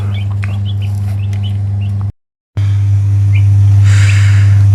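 Week-old broiler chicks peep and cheep in a brooder over a constant low electrical hum, with a brief gap of silence partway through; no one speaks.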